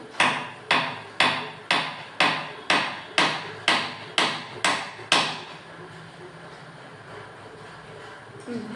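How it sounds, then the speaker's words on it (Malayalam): A spanner strikes hard on top of an object about ten times in a steady, evenly spaced rhythm of loud metallic knocks, each ringing briefly, before stopping and leaving quiet room noise. "ആ സ്പാനർ കൊണ്ട് ഇതിൻ്റെ മുകളിൽ അടിച്ച നല്ല സ്ട്രോങ്ങിൽ അടിക്കുക."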